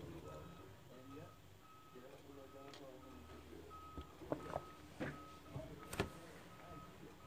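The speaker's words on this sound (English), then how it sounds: "we got a big truck in our driveway. Must be getting propane gas" A big propane delivery truck backing into a driveway, its reversing alarm beeping steadily at a distance, faint under nearby rustling and clatter.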